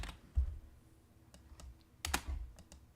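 Keyboard typing and mouse clicks at a computer, sounding as scattered, faint taps and clicks close by with a couple of louder clacks, no talk.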